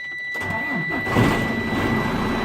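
Truck engine cranking and catching during an air brake test, a short starter whir that rises into a loud, rough idle, close and steady with no talk.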